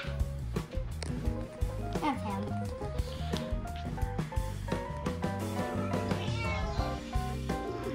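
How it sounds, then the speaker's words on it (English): A large cat meows repeatedly in a room while people talk over it and music plays underneath, its cries mixed into the busy layered sound. "That is a giant cat."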